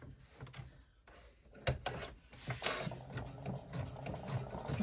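An embroidery machine stitches down the bottom edge of a striped fabric clutch, a quiet, uneven mechanical chatter of needle and gears with small clicks, fairly close and faint, no talking.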